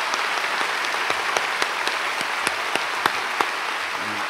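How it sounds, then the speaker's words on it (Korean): Church congregation applauding for a university youth group at a special dawn service, a steady dense roar of clapping with a few sharper individual claps popping out, even throughout. "박수하겠습니다."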